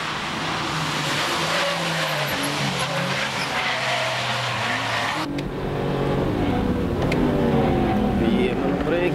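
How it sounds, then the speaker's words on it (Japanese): Nissan 350Z and Honda S2000 racing hard on a track, engines revving loud and close with quick upshifts, the note dropping and climbing again, while a commentator talks over the cars throughout. "Look how fast they're shifting up. The Z and S2000 really going at it."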